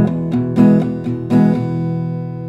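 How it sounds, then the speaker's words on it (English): Acoustic guitar strummed in a steady pattern of eight downstrokes per round, bright chord attacks ringing close and alone, with a couple of stronger accented strums as the chords sustain between hits. "you will hear this added strumming pattern in the background that grows"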